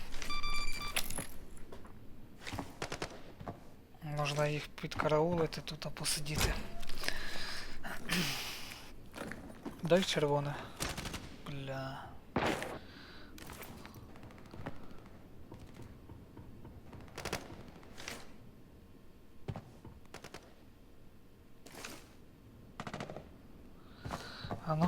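Sharp bursts of distant and nearby gunfire crack irregularly amid footsteps and equipment rattles in the video game Arena Breakout Mobile, with someone occasionally speaking quietly.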